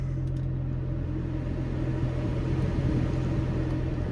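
Air conditioning fan in a 2017 BMW M2 cabin blowing steadily, a constant low whooshing rumble with a faint motor hum, close and even throughout with no talk.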